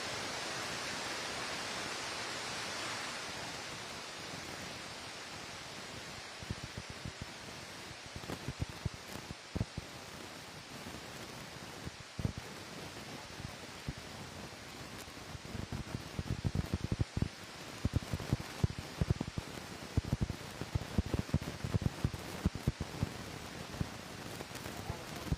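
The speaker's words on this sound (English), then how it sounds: "with how hard the rain is here" Heavy rain at Lake Tenkiller during a bass fishing tournament, a steady broad hiss that grows denser and patterier in the second half, with scattered louder drops.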